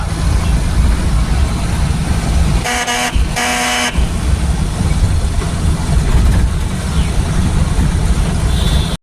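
A Maruti van's engine runs loud and steady up close, a dense low drone, interrupted near the middle by two short horn blasts.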